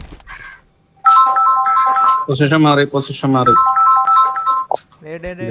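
A melodic phone ringtone plays in repeating electronic tones, loud and close, during a sniper video game, while a person talks over it intermittently.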